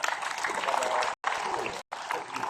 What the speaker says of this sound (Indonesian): Sekali lagi tepuk tangan untuk Pak Akbar